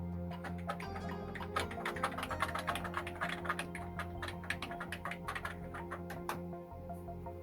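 An Atari 800XL home computer keyboard being typed on, with a fast, steady run of close, crisp key presses over a low background hum; no talking.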